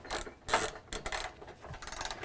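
Ratchet clicking in short quick bursts while a 13mm socket tightens a serrated flange nut on a rear step bracket of a 2018 Ford F-250, close and fairly quiet.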